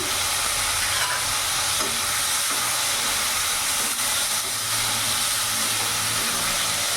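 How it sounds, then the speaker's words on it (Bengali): Browned onion and a large chopped tomato fry in a pan on the way to a cauliflower kalia, with a continuous close hiss and sizzle broken by occasional stirring scrapes. "পেঁয়াজটা ভাজা ভাজা হয়ে গেছে, বাদামি রঙের হয়ে গেছে দেখতে পাচ্ছ। এরই মধ্যে একটা বড় সাইজের টমেটো কুচনো দিয়ে দিলাম।"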